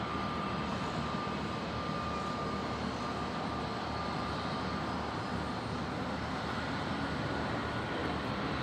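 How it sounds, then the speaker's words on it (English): A Qantas Airbus A330-200 departs Brisbane for Singapore, heard as a faint, steady, distant jet roar that stays even throughout with no speech. "Qantas 330-200 off to Singapore"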